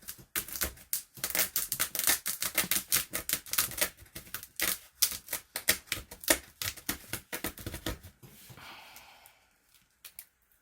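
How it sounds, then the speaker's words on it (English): Dry old glue being scraped and crunched off the spine of an 1896 paper ledger, a dense run of close, crackly scratching and crinkling bursts that thins out and fades near the end, with no talk. "I'm just sort of crunching off this glue that's here."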